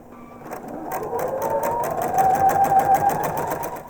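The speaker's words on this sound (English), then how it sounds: "take it to the sewing machine to sew on the line." A sewing machine stitches a foundation paper-pieced quilt block nearby, its needle hammering in a fast, even rhythm that builds slightly in speed, with a soft motor whine.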